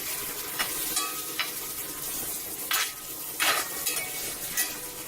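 Onions frying in a pan for chicken chukka varuval, a steady low sizzle with a few scraping stirs of a spatula against the pan, close and moderately quiet, no talking.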